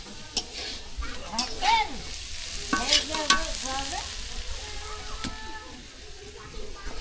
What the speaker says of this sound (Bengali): দেখতে পাচ্ছেন রান্না হচ্ছে